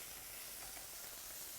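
Rice wine poured into a hot pan with soy sauce and oil hisses in a steady, faint sizzle that holds even and unbroken, with no talking.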